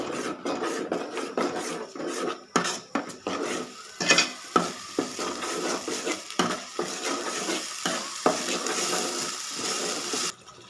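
Turmeric and chilli powder fried in a pan for chicken roast, a spoon stirring and scraping in quick irregular strokes over a soft sizzle, close and busy with no talk.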